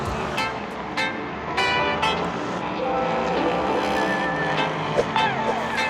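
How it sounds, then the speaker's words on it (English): NASCAR race cars roaring around the Chicago street track, a continuous loud engine drone heard from a raised viewing area, with crowd and background noise mixed in. "up there you can actually hear the roar of the cars"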